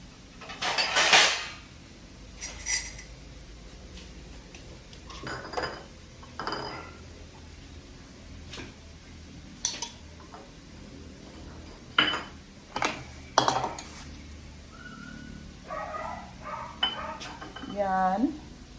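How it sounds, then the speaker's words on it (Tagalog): Eggs being scrambled with bitter gourd in a pan, with a utensil clinking and scraping against the cookware in irregular bursts over a quiet kitchen background. "So, karon mag-scramble ta. Scramble ta sa egg."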